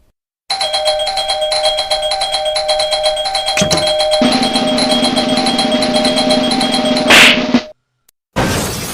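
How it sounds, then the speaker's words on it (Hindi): An electronic doorbell plays a long sustained chime with a bright ringing tone, a second note partway through, then a short knock-like hit before it cuts off and briefly resumes. "घंटी बजा रहे तो पगलैती कहाँ हो रही?"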